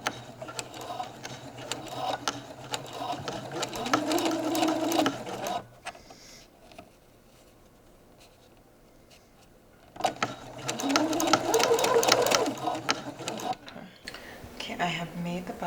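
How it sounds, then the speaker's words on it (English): A sewing machine stitches down a folded bias tape button loop for a shirt, whirring in two close bursts with a quieter pause between, a voice speaking over it. "I'm folding it in on itself and then sewing down here so that this can be the"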